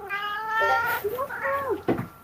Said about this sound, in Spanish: Uy, el gato.